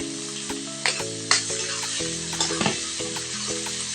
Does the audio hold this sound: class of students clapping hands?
no